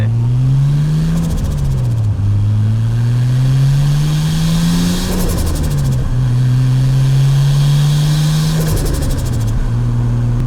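A Nissan Skyline's engine revs up and shifts repeatedly while driving, each pull climbing steadily in pitch before a gear change drops it back, loud and continuous from inside the car with no talking.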